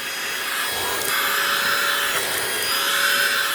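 A Eufy handheld vacuum cleaner runs steadily while sucking crumbs off a car seat, a constant close whir with gentle scraping and rubbing as the nozzle moves across the fabric.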